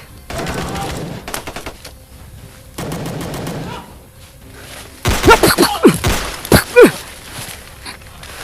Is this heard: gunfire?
yes